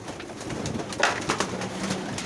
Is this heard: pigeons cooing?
yes